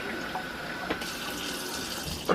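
Water flows steadily from a kitchen tap into a container, a constant close rushing hiss with a slight change in tone partway through and a small clunk at the end.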